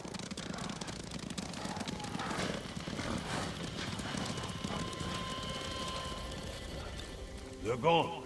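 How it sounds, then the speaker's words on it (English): Horses gallop past in the video game Ghost of Tsushima, a steady rumble of clip-clopping hooves throughout with a whinny rising near the end, set against ambient game sound. "You hear that? Horses!"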